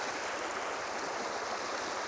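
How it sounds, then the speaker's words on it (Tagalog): River water flowing at a shallow crossing on a bikepacking route in Santa Inez, Tanay, Rizal: a steady, broad rushing hiss of moving water, close and continuous, with no talking. "unang ilog na tatawirin natin"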